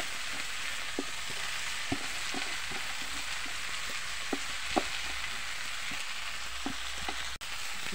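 Cassava leaves frying in a pan with garlic, a continuous soft crackling sizzle with occasional clicks and scrapes as they are stirred, close and steady.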